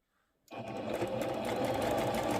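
A Singer sewing machine stitching lace piping starts up after a short silence and runs at a steady, close, even whir with a fast stitching rhythm.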